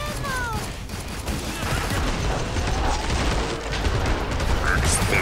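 Gunfire in the video game Killing Floor 2, a dense, continuous run of rapid shots and mechanical weapon sounds with in-game voices calling out over the action.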